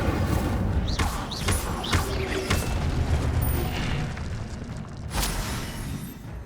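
The Incendio fire spell from Hogwarts Legacy goes off in a loud, dense burst of roaring fire and booming impacts, with whooshing swells on top and thumps trailing away in the final seconds.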